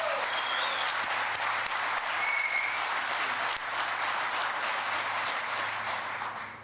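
Sustained applause from a crowd at a plant groundbreaking event in Lancaster, Ohio, honoring the mayor; steady, dense clapping lasting several seconds at an even level with no speech over it.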